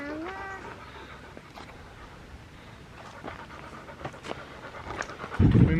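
A dog pants steadily on a hiking trail in San Diego, with quick rhythmic breaths close by, a brief whine at the start and louder rustling footsteps near the end.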